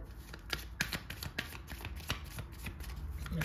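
Tarot cards being shuffled by hand up close, a rapid run of crisp riffling flicks and slaps that continues steadily without talk.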